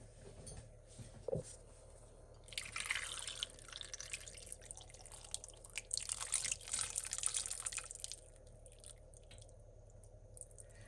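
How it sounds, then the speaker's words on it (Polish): Water poured into a pot of vegetables for Polish chicken broth, with soft splashing and gurgling that comes in two bursts, first for several seconds and then again after a pause, in a quiet kitchen. "Doleję wodę."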